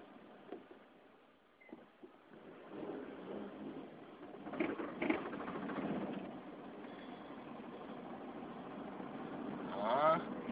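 A 2004 Honda Civic revs in third gear during a burnout attempt, the engine note rising and swelling over steady mid-range drone, with a brief higher whine near the end and voices talking over it.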